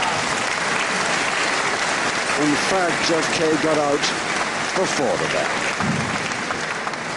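Crowd applause rolls steadily through a wrestling bout between Jeff Kaye and Jon Cortez, a dense wash of clapping filling the arena while a commentator talks over it.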